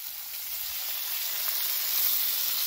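Pork butt steak sizzling on a Blackstone griddle just after being flipped, a steady, bright hiss of frying fat that swells slightly as it continues, with no talking.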